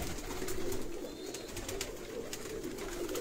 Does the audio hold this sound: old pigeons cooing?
yes